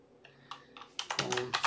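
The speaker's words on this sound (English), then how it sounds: "you go to the terminal and you type AWS configure" Quick light clicks of a computer keyboard as a terminal command is typed, a short burst of keystrokes close and quiet in a calm room.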